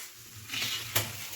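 Ground cumin and spices sizzle in a frying pan, a soft steady hiss with a brief sharper burst as they are stirred.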